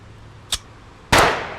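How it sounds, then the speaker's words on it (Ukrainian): Two sharp gunshot bangs in the video game Away From Life: a short, softer crack followed half a second later by a louder blast that rings out briefly. "Постріл перший не задався в мене, походу."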